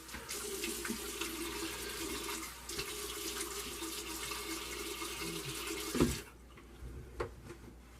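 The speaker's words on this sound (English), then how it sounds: "So let me rinse real quick in cold water." A bathroom sink tap runs with cold water for rinsing the face after a shave. The water gushes steadily and close for about six seconds, then shuts off, leaving a couple of faint splashes and drips.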